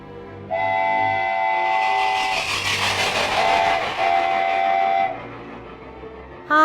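A train whistle blows in long sustained tones, stopping and sounding again over a steady rumbling, clattering rail noise throughout.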